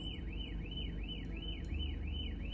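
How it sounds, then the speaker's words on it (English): A car alarm wails in a rapid, repeating rising-and-falling siren sweep, steady and continuous over a low rumbling background, moderately distant, heard from inside a vehicle at a drive-thru, with no talking. "What is that noise? There's an alarm going on."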